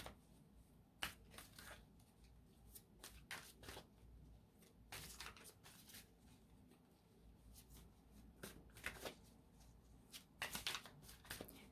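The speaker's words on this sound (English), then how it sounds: "let me go ahead and grab some more cards here" Tarot cards are shuffled again and again at close range, making soft riffling flicks and papery bursts in irregular clusters against a quiet background, with no one speaking.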